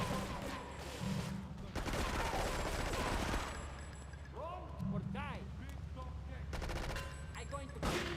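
Shotgun blasts go off in Grand Theft Auto III, with several sharp reports, amid game noise and chatter from a player talking throughout.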